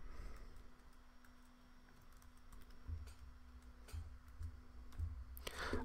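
Commands typed on a computer keyboard, faint scattered key clicks over a low background hum, sparse at first and then quickening into a short burst of taps near the end.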